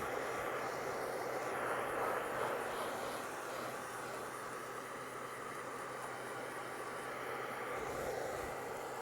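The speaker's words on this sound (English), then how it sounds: "I would never use the blower if I wasn't trying to get this painting somewhat in front of your face" An electric blower runs steadily and loud to dry a fresh painting, a continuous broadband whoosh with no breaks from start to end.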